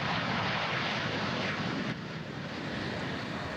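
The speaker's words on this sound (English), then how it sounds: "this is the famous afterburner" F-16 fighter jet engine running with afterburner, a loud, dense, continuous roar filling the whole stretch with a slight drop in level midway, no talk over it.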